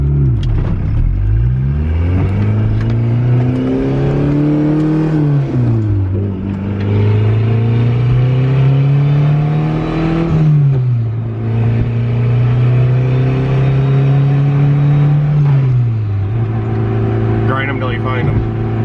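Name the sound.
turbocharged Honda Civic EF engine during test drive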